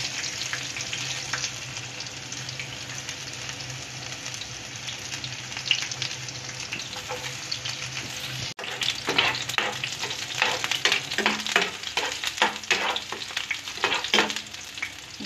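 Mung beans sautéing in a pan for ginisang monggo: a continuous close frying sizzle, growing busier in the second half with repeated scraping stir strokes.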